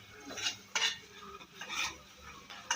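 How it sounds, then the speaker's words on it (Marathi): Stuffed brinjals stirred and sautéed in a pan with oil and leftover spice masala, giving soft, quiet scraping and clinking strokes with a faint sizzle underneath. "आपल्याला उरलेला जो मसाला आहे तेल टाकून परतून घ्यायचं आहे त्याच्यानंतर हे भरलेले वांगे त्याच्यामध्ये टाकून परतून घ्यायचे"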